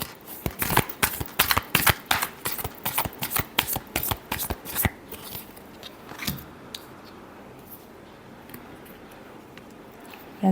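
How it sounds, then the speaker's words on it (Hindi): Tarot cards riffle-shuffled by hand in a rapid, crisp series of close flutters and snaps for about five seconds, then softer handling and quiet rustle. "Last shuffle."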